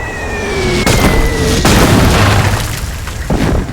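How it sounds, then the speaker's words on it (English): 105 millimeter artillery shells burst close by in a barrage, several loud booming explosions in quick succession with rumbling debris between the blasts. "105 millimeter cannon shells, artillery shells, dropping right amongst us."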